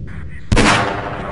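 An enemy tank cannon fires in Half-Life Blue Shift: a single sharp, loud boom hits after a brief lull and then rolls off in a long fading decay.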